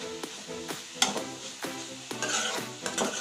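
Paneer bhurji is stirred in a pan, with repeated close scrapes and clinks of a spoon against metal in an irregular rhythm over a light sizzle, no talking.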